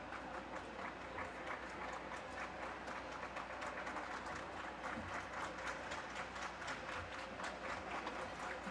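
An audience at a taijiquan competition claps steadily and rhythmically while waiting for a score, a faint, even wash of applause with crowd murmur underneath.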